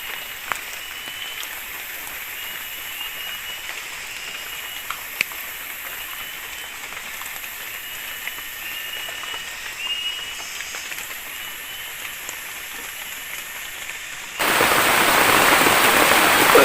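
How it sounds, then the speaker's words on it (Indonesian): Steady heavy rain hisses on a tree house throughout, then suddenly intensifies near the end into a dense, louder downpour. "Hujan terus guys, nggak berhenti-berhenti. Nambah deras hujannya."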